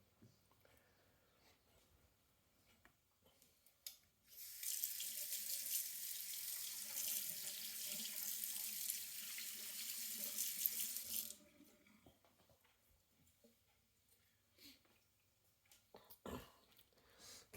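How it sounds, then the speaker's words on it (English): Tap water runs into a kitchen sink for about seven seconds while a spoon is rinsed, a steady bright rush that begins and stops abruptly, with quiet handling noises before and after. "Had to wash my spoon because I want to take another taste."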